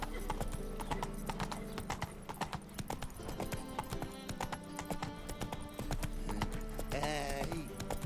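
Roach the horse gallops in The Witcher 3, steady clip-clop hoofbeats pounding close and loud with brief snorts and a whinny, while a voice speaks intermittently over the rhythm.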